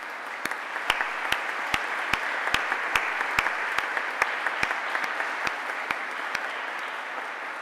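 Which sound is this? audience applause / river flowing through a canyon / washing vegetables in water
audience applause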